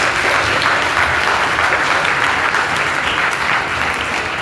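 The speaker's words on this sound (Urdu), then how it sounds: "زوردار تالیاں بجائیں" A church congregation gives a strong, sustained round of applause during a worship service, dense and even clapping filling the space without pause.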